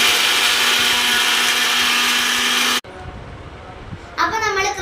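A mixer grinder whirs loudly and steadily as it grinds Oreo biscuits in its jar, then cuts out abruptly. A person speaks afterward.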